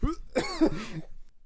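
A podcast guest who has COVID gives a single close, harsh cough that breaks into a rough throat-clearing rasp, then fades to quiet.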